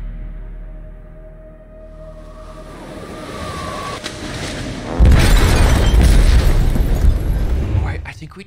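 A bomb blast in the video game Detroit: Become Human, a rising rumble that erupts into a loud, sustained roaring boom lasting a few seconds before tapering, with a voice talking over it.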